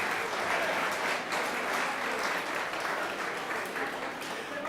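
An audience at a sports excellence gala claps steadily, a dense and even wash of many hands heard from within the room, sustained without pause for several seconds.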